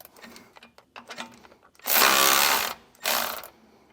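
Power impact tool spinning off nuts on a front anti-sway bar of a 2014 Tiffin Allegro motorhome, two loud close bursts, the first about a second long and the second shorter, after some quieter handling clatter.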